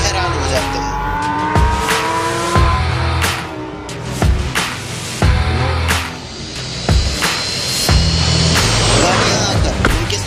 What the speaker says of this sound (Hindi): अचानक दूर से 3 गाड़ियां तेज स्पीड से उनकी तरफ आती हुई दिखाई देती हैं।